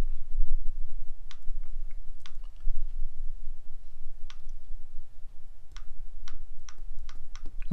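Keys on a computer keyboard click sharply and sparsely as they are pressed one at a time, in irregular taps over a low background hum.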